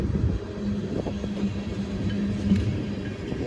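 A slow freight train passes close by with a continuous low rumble and faint rhythmic wheel clatter over the rails.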